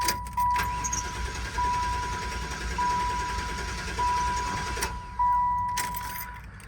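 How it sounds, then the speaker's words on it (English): A Buick Roadmaster wagon cranks without catching, a loud mechanical churn that swells and fades in repeated pushes while a steady dashboard chime beeps at regular intervals throughout. "Interesting that it was trying to start again and then wouldn't."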